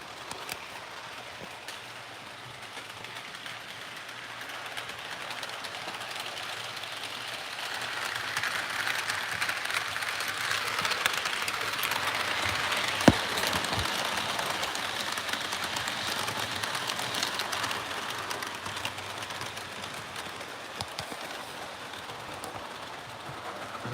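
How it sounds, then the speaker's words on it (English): A model railroad train runs past a tiny station, giving a steady rolling rumble and faint rhythmic track clatter that swells slightly in the middle and continues throughout, with no talking. "of my train running past the tiny station."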